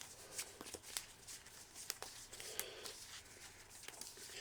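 Cards are shuffled in quick crisp riffles and snaps, faint and close, with short bursts of flicking.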